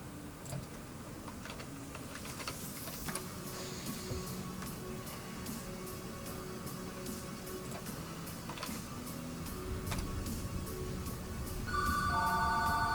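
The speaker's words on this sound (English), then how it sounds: "There's the phone." A telephone rings in a Pokémon battle game, a faint electronic ring rising near the end over a busy background of ticking and clicking sounds.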